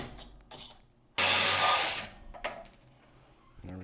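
A ratchet works on the front shock bolts of a Jeep JKU, with one loud burst of whirring tool noise followed by scattered clicks and clanks of metal parts close by.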